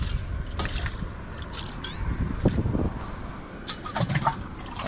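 Water from a mug splashes and trickles over an AC outdoor unit during a jet pump service, an irregular wet pattering with scattered drips close by.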